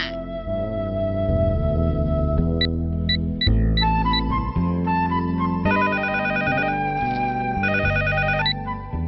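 A telephone rings with a loud, electronic, melodic ringtone that repeats its pattern of tones continuously in a comedy scene, with no voices over it.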